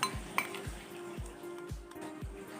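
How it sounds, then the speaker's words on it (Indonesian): Fish bait mixed with fish oil and sago worms is stirred in a container, five evenly spaced scraping strokes about half a second apart, quiet and close, with a faint clink near the start. "Aduk semua sampai merata, paikin minyak ikan dan ulat sagunya bosku"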